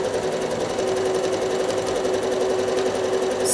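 A sewing machine stitches stippling on quilt fabric, a steady rapid mechanical whir and clatter running continuously and close with no voices.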